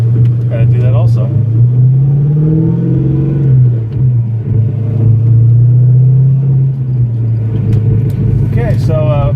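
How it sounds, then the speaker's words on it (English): A 1987 Fox body car fitted with headers drives along, its loud, steady low exhaust drone swelling briefly as it accelerates before settling back, with brief voices near the start and end. "right now we're just kind of gonna do a little driving around until the car gets warmed up"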